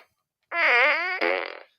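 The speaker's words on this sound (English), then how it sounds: "70 fart gun salutes tonight in honor of Mom's 70th birthday" A fart gun toy is fired as a birthday salute, letting out a loud, close, buzzing raspberry-like blast about a second long that breaks briefly and sputters out at the end.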